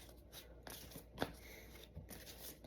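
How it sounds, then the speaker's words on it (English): Tarot cards are shuffled by hand in soft bursts of riffling and sliding, with a sharper snap midway, quiet and close with no talking. "Should I shuffle the other way?"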